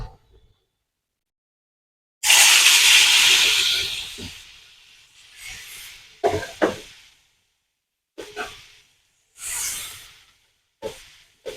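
Sliced ridge gourd sizzles loudly in hot oil in a pan, starting with a strong hiss that slowly fades, then several shorter bursts of sizzling follow, with no talk.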